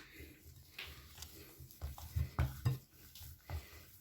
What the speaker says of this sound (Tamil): சட்டியில் ஒட்டாத பதத்தில் வரும் வரையும் அப்படியே நல்லா குழைக்கணும்